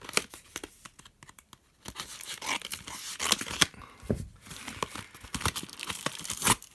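Scissors snip and hands tear sellotape from a tightly sealed parcel, giving bursts of close crinkling, ripping and crackling plastic with short pauses between.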